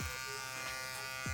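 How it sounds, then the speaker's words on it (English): An electric hair shaver buzzes steadily, close up, while cutting short afro hair for a nudred fade, with a brief faint rising tone near the end. "I use my shaver every direction."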